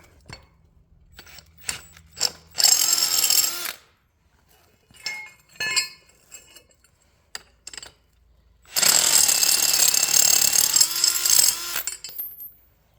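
Two long bursts of harsh, high-pitched whine from a Milwaukee power drill boring into metal with a 5/8 bit, separated by a stretch of clanks and short mechanical noises.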